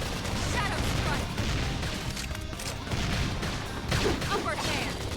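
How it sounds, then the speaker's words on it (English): A battle in Xenoblade Chronicles X: Definitive Edition, with dense bursts of gunfire and impacts layered over game music and effects, loud and continuous, while voices shout during the fight. "Topple him with some gunfire!"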